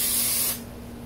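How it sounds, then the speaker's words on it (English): Pam cooking spray hisses from a can in one steady, close burst of about half a second over a stack of tortillas for enchiladas, then stops, leaving quiet room tone. "So I use Pam, and then I just go through the whole stack."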